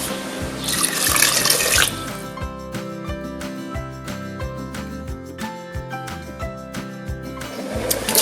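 Water pours into a pot of Thai khi lek (cassia leaf) curry with pork belly and coconut milk, a close running splash at the start, then quieter stirring clatter and a second pour at the end.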